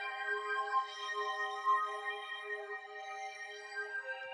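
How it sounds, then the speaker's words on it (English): Sustained synth pad from the Vision X Gallery Bank, a smooth harmonic chord that holds steadily and evenly for several seconds, alone with no drums or voice, for a vibey R&B loop. "we've got a pad. It's from Vision X's Gallery Bank, and that sounds like this."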